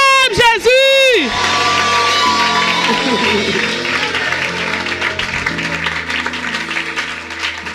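A church congregation at a worship gathering breaks into loud cheering, whoops and shouts for Jesus, then settles into sustained applause and crowd noise with music carrying underneath.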